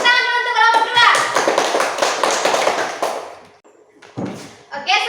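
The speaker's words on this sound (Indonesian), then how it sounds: "Tepuk tangan dulu untuk kelompok" Schoolchildren in an elementary classroom clap together for the winning group, a dense burst of many hands that runs a few seconds, then tapers off into quiet with a voice coming in near the end.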